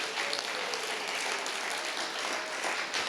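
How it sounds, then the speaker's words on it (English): An audience applauds honorees being inducted into the Mandel School Hall of Achievement at an alumni homecoming celebration, a steady wash of many hands clapping throughout, moderately distant with no distinct voices. "Let's give them a hand."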